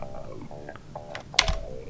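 Keys on a computer keyboard tapped in a short, quiet burst of scattered clicks, one slightly louder stroke in the middle, with no talking.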